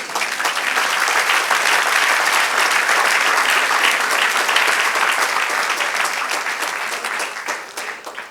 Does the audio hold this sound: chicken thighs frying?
no